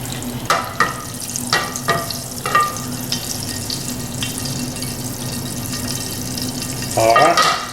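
Oil heating in a pan with bacon drippings for frying shrimp, a steady sizzle running throughout with a few sharp clinks and knocks of cookware and a brief burst of water near the end, no talking.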